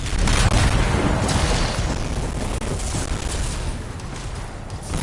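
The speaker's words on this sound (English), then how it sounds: "It'll be a contained explosion." Canisters exploding in the video game Anthem, producing a loud, dense blast with a heavy low rumble that peaks early and then sustains through the whole stretch without fading away.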